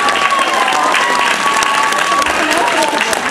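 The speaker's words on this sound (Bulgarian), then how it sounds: "Благодаря и на вас, мили хора, за сърдечните аплодисменти." Warm audience applause at an outdoor holiday concert, dense continuous clapping from a crowd with a few voices and cheers mixed in.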